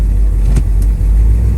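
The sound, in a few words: 1972 Chevrolet Chevelle 454 accelerating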